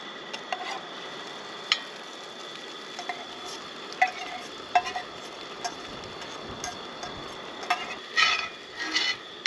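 Leftovers reheating in a pan at a dispersed campsite near the Grand Canyon: a faint low sizzle with scattered scraping stirs and small clicks, steady and close, with no talk.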